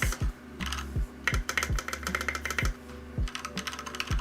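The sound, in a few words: typing on a mechanical keyboard with IFK Delight keycaps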